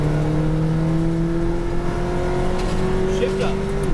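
McLaren 570S GT4 race car at Speed Vegas accelerating at full power, a steady loud engine note rising smoothly in pitch with a gear shift near the end, while an instructor talks over it.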